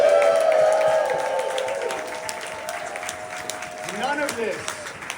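Applause for Suzanne Long at a live Saturday morning breakfast cereal spectacular show, a dense crowd clapping steadily and fading slightly, with a voice speaking over it near the end.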